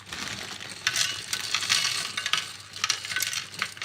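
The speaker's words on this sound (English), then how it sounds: "Then what I need to do is throw in plenty of pasta." Dry pasta tossed into a baking dish over chicken for a peri peri chicken pasta bake, a close, faint rattling patter of hard pieces scattering and clattering against the dish.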